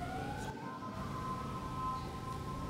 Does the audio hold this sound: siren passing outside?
yes